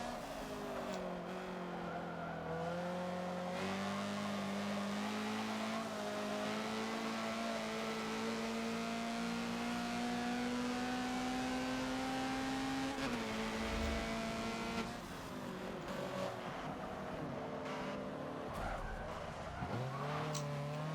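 A Honda CRX races around Le Mans at night in Forza, its engine holding a steady high drone that climbs and dips with brief tire skid noise, loud and continuous throughout with no talk.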